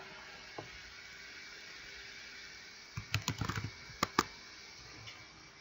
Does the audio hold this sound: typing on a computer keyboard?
yes